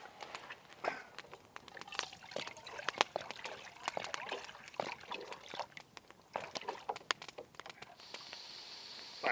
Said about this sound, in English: Get some water in the pan.